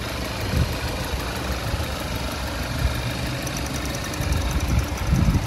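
A 2011 Audi A5 engine idles steadily, heard from around the open engine bay as a continuous, even hum with faint mechanical ticking and no voices.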